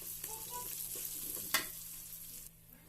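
A ground paste of ginger, galangal, bay leaf, lime leaf and lemongrass fries in a pan, a close, steady sizzle with a few light stirring scrapes and a sharp tap near the middle.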